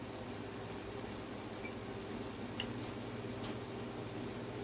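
Small piece of saltfish frying in a pan, a steady, even sizzle that holds at the same low level throughout with no talking over it.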